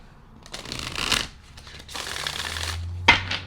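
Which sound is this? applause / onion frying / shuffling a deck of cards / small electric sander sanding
shuffling a deck of cards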